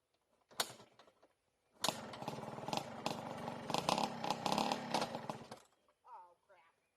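A Yamaha Blaster ATV's two-stroke engine buzzes past on a flyby, a short blip then a few seconds of rising and falling revs, cutting off abruptly; brief speech follows.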